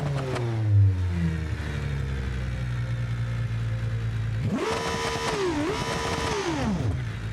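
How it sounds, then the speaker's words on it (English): A normal BeamNG V6 car engine in a video game idles low after a gliding tone, then revs hard twice to a loud, rough, raspy roar before dropping back. "And then if we start the engine on this bad boy"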